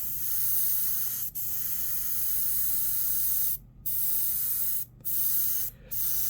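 Spray paint hisses onto a D&D demon skull in steady, close bursts, cut by a brief pause early on and three short breaks later.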